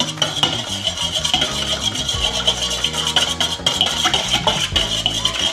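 A fork beats eggs into boxed cake batter in a bowl, giving a close, steady run of quick scraping and clinking strokes against the bowl for several seconds, with no talking.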